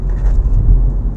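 A 2019 MINI Cooper S JCW drives along in a brief, close, low engine and road rumble, steady and heavy in the bass, with no talking.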